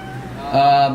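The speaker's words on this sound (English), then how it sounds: "And you'll have to excuse the cat; she's a little mean." A house cat gives a single short, tonal meow close by, rising in strength midway through over a steady low background hum.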